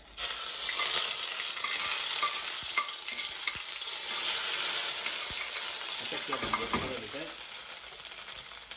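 Black pepper chicken curry frying in a pan, a loud continuous sizzle with spitting crackles and spatters throughout, close up and with no talking.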